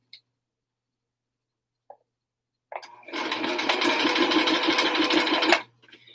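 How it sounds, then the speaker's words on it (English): After a near-silent pause with a faint tap, a sewing machine stitching a helmet cover runs in a single sustained burst of rapid mechanical chatter for about three seconds, then stops abruptly. "I don't think we have to sew this one twice"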